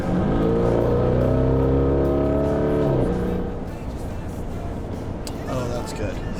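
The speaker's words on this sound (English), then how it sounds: "This is why you don't do donuts in the snow in your Urus." A Lamborghini Urus SUV engine revs hard with rising pitch while doing donuts in snow, then drops off to a rumbling idle amid crunching and tire noise, with voices talking over it.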